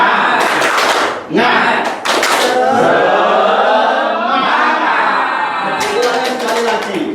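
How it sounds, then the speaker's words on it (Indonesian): A group of teachers at a school training session doing a rhythmic tepuk semangat spirit clap, bursts of sharp claps in patterned sets alternating with a leader's voice. "Sekarang kita akan tepuk semangat."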